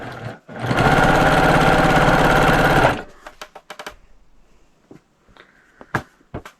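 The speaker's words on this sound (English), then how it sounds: "I'm going to get started at the sewing machine" A sewing machine stitches paired fabric strips for a scrappy quilt in one loud, steady burst of about two seconds. It then stops, leaving faint handling clicks and rustles.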